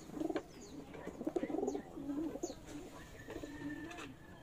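Pigeons cooing softly in a series of low, throaty calls, with faint chirps and outdoor background noise.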